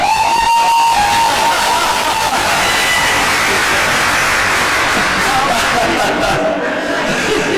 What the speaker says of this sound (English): Wow, your husband got more applause than you did.